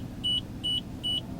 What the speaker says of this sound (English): my car's still beeping because I'm not wearing a seatbelt